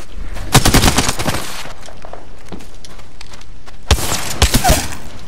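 Automatic weapon fire in the online battle royale shooter Apex Legends comes in two loud, rapid bursts separated by a quieter stretch of scattered shots, with no talking.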